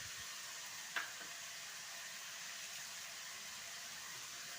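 Tomato frying in a pan with salt while making oggarane rice, a steady soft sizzle running the whole time with one brief clink near the start.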